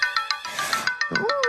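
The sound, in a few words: phone ringtone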